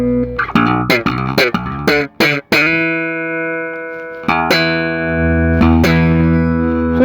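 A Warwick Thumb BO or Corvette Standard four-string bass is played with its active pickup EQ engaged, giving a brightened tone: a quick run of plucked notes, then longer sustained notes ringing out loud and close.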